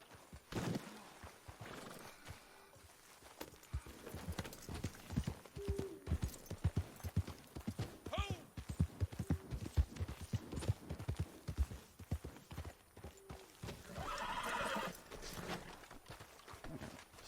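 Horse hooves clip-clop steadily through a Red Dead Redemption II game scene, with a short whinny partway through and another burst of neighing near the end, all close and fairly quiet.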